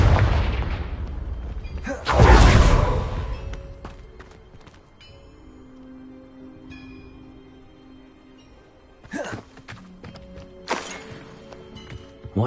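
Confringo spell cast in the Hogwarts Legacy video game: a loud explosive boom burst with crackling tail, followed by quieter game ambience and two later short sharp bursts, no talk.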